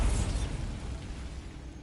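A booming spell explosion from a video game, a single loud low-heavy blast that fades into a rumbling tail over about two seconds, heard alone.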